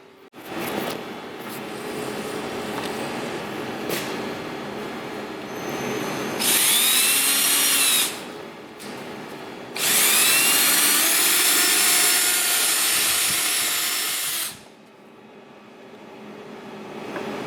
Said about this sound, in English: we're gonna drill it wider so we can fit this bracket as such